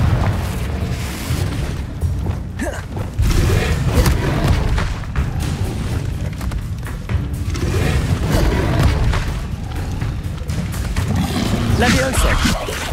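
Confringo blasting spells explode through a Hogwarts Legacy battle, deep booms and roars layered into continuous loud combat noise, with spell names shouted throughout.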